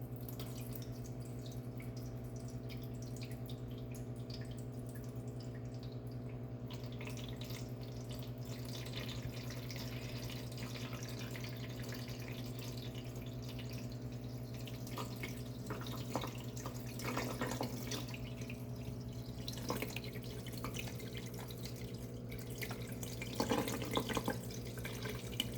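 Water trickles and splashes quietly into a hydroponic tank, growing busier toward the end, over a steady low electrical hum.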